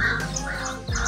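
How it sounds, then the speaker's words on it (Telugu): Crows and other birds call outdoors beside water where lures are being tested for snakehead fishing, giving repeated harsh caws that stay fairly loud and close over a steady background. "ఇక్కడ బర్డ్స్ ఏమో ఉన్నాయి బాగా సౌండ్ చేస్తున్నాయి డిస్టర్బ్ చేస్తున్నాయి"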